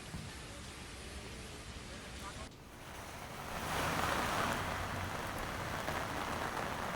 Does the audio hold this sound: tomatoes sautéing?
no